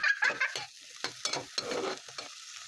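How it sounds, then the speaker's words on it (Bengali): Chopped tomato and cabbage are stir-fried in a wok, giving a soft sizzle broken by scraping and clattering of the spatula in quick uneven strokes, close up and quiet, with no voices. "আবারও ওই কড়াইয়ের মধ্যে সামান্য একটু তেল দিয়ে টমেটো কুচিগুলো দিয়ে সামান্য একটু লবণ দিয়ে হালকা করে ভেজে এর মধ্যে বাঁধাকপি কুচিগুলো দিয়ে দেব"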